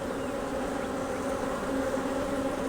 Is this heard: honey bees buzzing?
yes